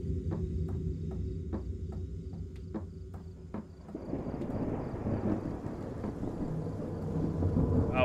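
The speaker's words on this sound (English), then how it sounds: "Raining." Rain and rumbling thunder in the horror video game Fears to Fathom: Carson House, a steady downpour swelling halfway through under low rolling thunder, with intermittent knocks and chirps early on.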